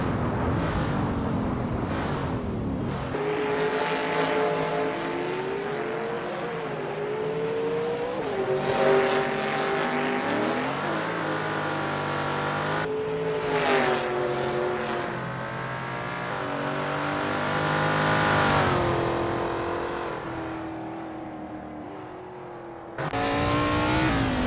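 Race cars rev and warm up in the Assetto Corsa racing game at Sonoma Raceway's NASCAR circuit, engines whining loud and near with rising and falling pitch as they accelerate, alone with no talk.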